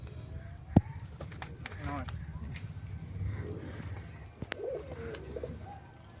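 Kalodoma pigeons at a pigeon sale coo softly in repeated low murmurs, partly masked by a person talking close by, with a sharp knock near the start.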